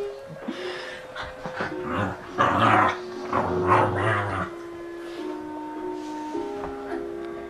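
A curious puppy growls and whimpers close by in a series of low rumbles and soft whines, loudest in the middle, with a faint steady tone behind it.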